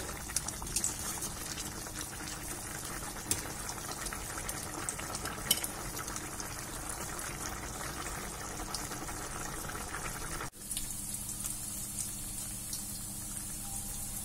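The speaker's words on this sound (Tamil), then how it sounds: "சூப்பரா கொதிச்சிட்டு இருக்குங்க" Chettinad chicken curry bubbling in a pot on the stove, a steady close simmering hiss and crackle that continues without a break, then drops suddenly quieter near the end, with no talk.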